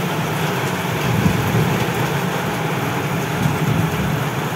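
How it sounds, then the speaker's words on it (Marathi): Steady, dense rain falls continuously during a lightning storm, a broad hissing wash with a low rumble underneath and no voices. "खूप जोराचा पाऊस पडतोय, विजा पण व्हायला लागलेत"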